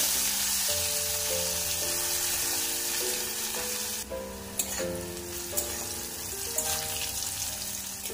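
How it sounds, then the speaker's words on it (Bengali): Sliced bitter gourd frying in oil with turmeric, a steady close sizzle under soft background music with a few light clicks, no talk. "করলাটা খুব ভালোভাবে ভেজে নেব।"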